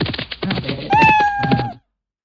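A clear cat meow sound effect in a Scratch program rises over a few dull knocks and thumps, then everything stops abruptly into silence.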